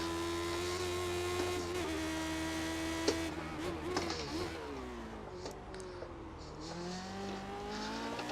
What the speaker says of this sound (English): Hear me trying to get on the throttle a bit earlier there